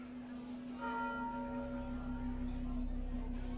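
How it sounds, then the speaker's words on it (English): A church bell tolls with a sustained ringing tone and shimmering overtones, loud and steady above a low rumbling background. "As the minute hand spun, the tolling started."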